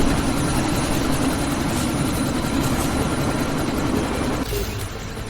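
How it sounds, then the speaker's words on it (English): A helicopter in the Deus Ex: Mankind Divided video game, during a sandstorm, gives a loud, steady rotor drone with a low heavy engine rumble that continues throughout and eases slightly near the end. "you need to disable that chopper."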